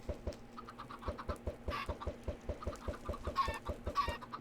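Chickens in the video game Minecraft cluck steadily in a dense, rhythmic chorus, many birds close by, with a few sharper squawks rising above the repeating pulse.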